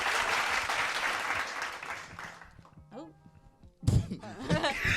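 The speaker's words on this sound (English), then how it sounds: "Round of applause right there." A studio audience's applause, loud and dense for the first two and a half seconds, then dwindling into scattered claps and a few thumps, with talking breaking in near the end.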